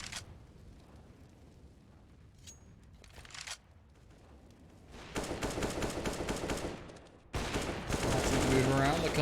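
Rapid pistol fire from CZ and P250 handguns in a Counter-Strike match on the Inferno map, with bursts of close shots rising to dense, loud volleys in the second half and commentary talk running underneath.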